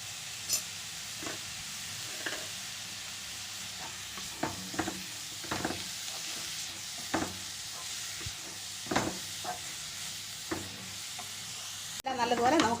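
Khatta mitha mixture with sugar and garam masala sizzling in a pan under a steady hiss, with irregular scrapes and taps from stirring and a louder rattle at the end.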